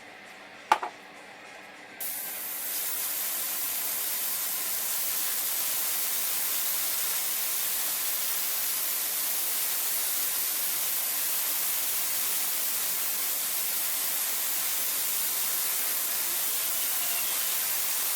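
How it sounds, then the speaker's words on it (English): A click, then a steady continuous airbrush hiss starts and runs unbroken at an even level, close by with no talking, spraying Mr. Color 14 Navy Blue onto a 1:48 plastic model kit. "Alright, let's mix it up and spray."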